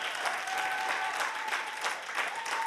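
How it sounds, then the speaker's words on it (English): A church congregation claps steadily in praise for a member who finished law school, a dense, sustained burst of hand-clapping heard fairly close, with a faint held tone running beneath it. "Clap your hand and give God a praise for that."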